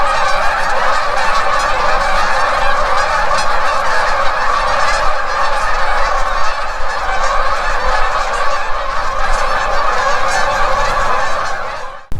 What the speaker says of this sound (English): Got the ducks going in the background there, pretty cool little scenery.